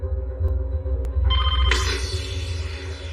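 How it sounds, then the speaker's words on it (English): A telephone bell starts ringing partway through, bright and insistent, over a steady low hum. "When I heard that phone ring"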